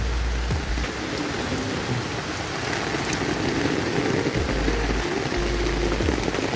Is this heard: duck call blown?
no